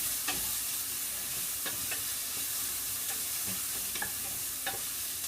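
Onions fry in a pan with a steady, close sizzle while a utensil stirs salt through them, giving a few soft scraping strokes. No one speaks.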